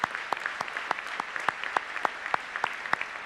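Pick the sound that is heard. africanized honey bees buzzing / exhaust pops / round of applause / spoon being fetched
round of applause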